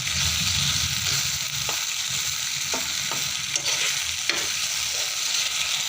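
Food is stirred in a frying pan over a loud, steady sizzle, with short scraping strokes of a utensil against the pan.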